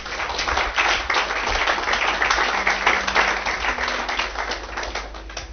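A church congregation applauding during a Sunday sermon, a steady broadband wash of clapping held at an even, fairly loud level for several seconds, with no voices standing out.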